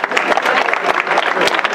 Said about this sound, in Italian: un applauso al podio femminile